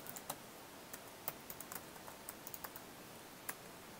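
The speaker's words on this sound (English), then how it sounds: "we'll type a URL that points to the node" Light, sparse keystrokes on a computer keyboard as a web address is typed, a few quiet isolated clicks spread irregularly over a faint hiss, no voices.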